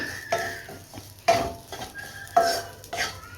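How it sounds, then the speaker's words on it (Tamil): Grated coconut, cumin and onion roasting in a pan over a high flame, with a spoon stirring and scraping against the metal in several distinct strokes and a faint sizzle underneath. "ஸ்டவ் நல்லா வந்து ஹை ஃப்ளேமில் வச்சுட்டு நல்லா வறுத்து விட்டுப்போம்"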